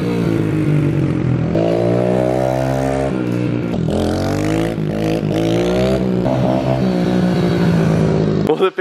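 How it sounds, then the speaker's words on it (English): A pit bike's small engine runs loud and close throughout a ride, its pitch rising and falling with throttle changes and revving hard near the end. "Well, the Pit Bike is fun as hell."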